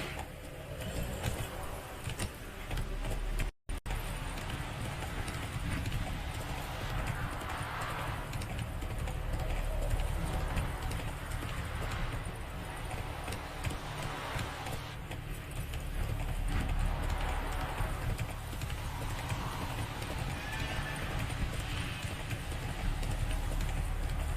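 Galloping hooves of Roach, the horse in The Witcher 3, drum a steady clip-clop rhythm close by throughout, with a brief dropout early on over continuous game ambience.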